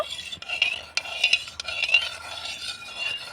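Salt stirred into water with a spoon while making homemade vinegar, producing steady close clinks and scraping swirls against a container, continuous and fairly quiet with no speech.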